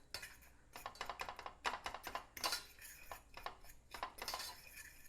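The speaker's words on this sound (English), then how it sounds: "So we're just going to just lightly mix those together just so that they're combined" Sugar and cornstarch being lightly mixed in a bowl, with quick irregular clinks and scrapes of a utensil against the dish, close and fairly quiet, in uneven bursts.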